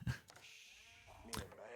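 Sheep bleating in Age of Empires IV, a couple of short soft game bleats separated by a brief gap, faint and close, with a voice talking in the background.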